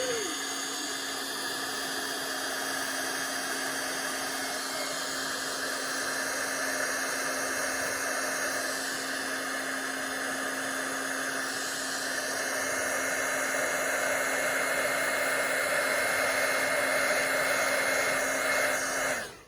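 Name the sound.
embossing heat tool blowing hot air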